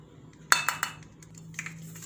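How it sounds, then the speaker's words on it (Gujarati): Potato chips and cornflour are mixed in a bowl, producing a few sharp clinks and scrapes of utensil against the dish, with a couple of softer knocks afterward, close and fairly quiet. "બધું મિક્સ કરી લેવું"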